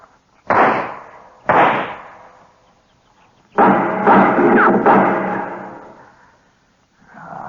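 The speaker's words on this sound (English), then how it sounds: "Well, I'll put a couple of shots in there" Two sharp gunshots fired into a hideout in a Gunsmoke radio western drama ring out about a second apart, each with a decaying tail, followed by a longer, louder noisy burst of action.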